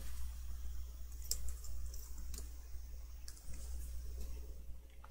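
Computer mouse right-clicks while working in a file folder: a handful of faint, sharp clicks spaced about a second apart over a steady low electrical hum.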